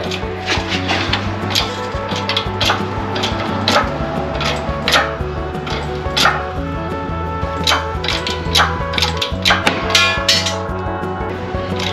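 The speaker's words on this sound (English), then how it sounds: "I knew the hammer would come in eventually." A hammer strikes metal repeatedly while knocking a transmission filter into place, with sharp irregular clinks and knocks over a steady low hum.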